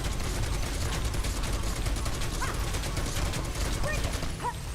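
Dense rapid gunfire in Final Fantasy crackles continuously in a steady rattling stream, with faint chirping game sounds mixed in.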